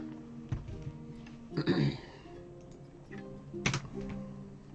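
Computer keyboard on a desk, clattered and shifted rather than typed: a few sharp knocks and rattles spaced out, one louder cluster in the middle, under faint background talk.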